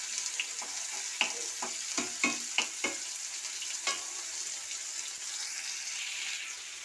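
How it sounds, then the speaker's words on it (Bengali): Panch phoron spices frying in a little oil, giving a quiet continuous sizzle with a run of crisp clicks and pops from spatula stirring in the first few seconds, close up, no talking. "দিয়ে অল্প তেল দিয়ে পাঁচফোড়নটাকে আমি ভেজে নিচ্ছি।"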